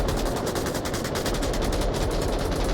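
Steady, dense gunfire from the VR shooter game Onward, a continuous rattle of rapid shots filling the whole stretch at a fairly loud, even level with no talking.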